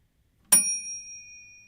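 A single bright bell ding rings out and its metallic tone lingers, slowly fading into silence.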